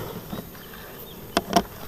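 Honeybees buzz faintly and steadily around honey supers during the year's last honey harvest. Near the end come two sharp, close knocks.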